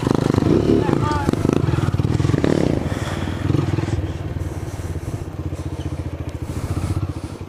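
A motorcycle engine runs close by with a loud, pulsing chug, surging strongly early on, then settling into a steadier throb that swells again toward the end, with someone talking over it.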